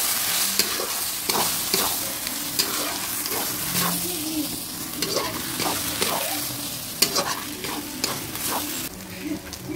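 Dissolved flour batter is poured into a sizzling banana-blossom curry and stirred, giving a steady close frying hiss broken by repeated scraping and clacking spoon strokes against the pan.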